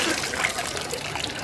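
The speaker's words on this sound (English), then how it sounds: "I rigged the water fountain." Water rushes from a rigged water fountain in a steady, fairly loud, close splashing flow with no pauses.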